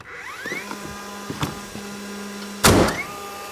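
A DeWalt cordless framing nailer spinning up its flywheel with a steady mechanical whir and faint clicks, then a sharp loud burst of the drive firing near the end, close and with no talking.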